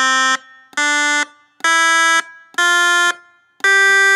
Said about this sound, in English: So you can hear it gives you a sustaining pitch for as long as you press it. But as soon as you release the key, it's off.